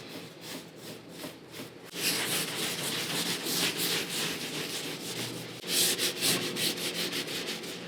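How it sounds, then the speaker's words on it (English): Food-grade wood wax rubbed and wiped by hand onto a wooden charcuterie board, a steady close scuffing and rubbing that grows louder and more vigorous partway through, continuing alone without talk. "Get some big chunks of wax. I'm just gonna rub it on and wipe it in."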